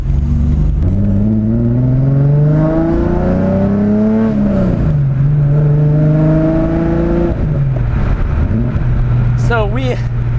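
A BMW E30 race car with its engine stroked to 2.7 litres pulls hard from inside the cabin, its loud engine note climbing through the revs, dropping at a gearchange, then rising again.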